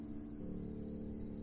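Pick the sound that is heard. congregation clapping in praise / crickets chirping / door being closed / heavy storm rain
crickets chirping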